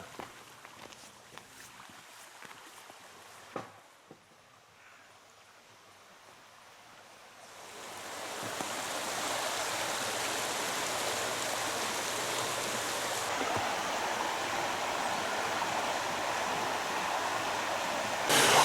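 River Dove flowing beside a footpath in Dovedale, Peak District: quiet at first with scattered rustles, then a steady broadband rush of running water swells up and holds, close and continuous.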